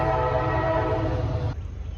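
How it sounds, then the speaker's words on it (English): A train passes close by, its loud sustained horn blaring for about a second and a half before cutting off, leaving the rumble of the rail cars rolling on. "This goddamn train."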